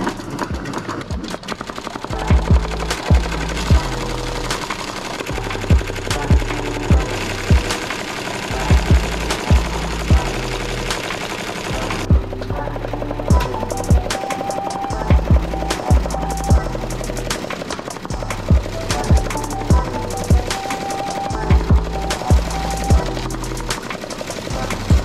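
An embroidery machine stitches a three-color hat design with a rapid, steady mechanical chatter, broken by frequent sharp thumps and clacks, close and alone for the whole stretch.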